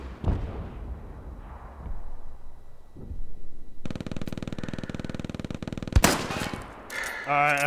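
Rapid bursts of machine gun fire in the World War II shooter Hell Let Loose, a dense, sustained rattle in the middle of the clip, followed by a sharp nearby blast and lighter gunfire toward the end.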